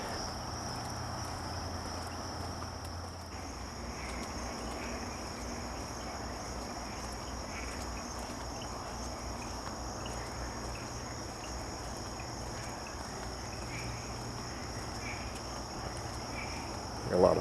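A steady outdoor chorus of frogs trilling continuously at a lake at Sawgrass Lake Park, with a low hum of distant traffic underneath and a brief bump at the end.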